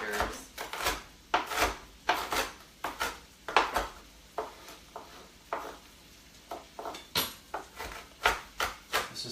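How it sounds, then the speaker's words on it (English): Hard-boiled eggs are peeled for deviled eggs, with steady close crackling and rubbing bursts of shell coming off in an irregular rhythm and no talking. "while we're peeling eggs"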